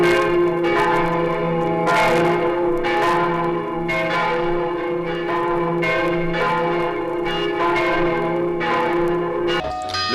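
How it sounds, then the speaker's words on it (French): Church bells ringing in a steady repeated pattern, several overlapping clangs struck every second or so with long ringing tones, loud and close. "Le son de cette cloche me donne le bourdon"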